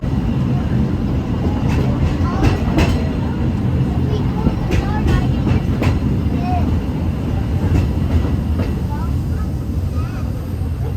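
A Magic Kingdom theme park train rattles and rumbles steadily along the track with clickety-clack, heard from on board amid a constant roar and some faint voices.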